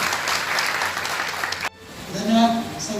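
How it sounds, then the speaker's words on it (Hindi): Loud applause from an audience at a commemoration ceremony in Varanasi, dense clapping that cuts off abruptly partway through, followed by a voice speaking over a microphone. "जोरदार तालियों से स्वागत हो"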